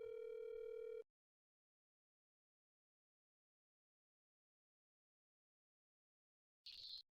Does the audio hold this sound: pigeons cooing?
no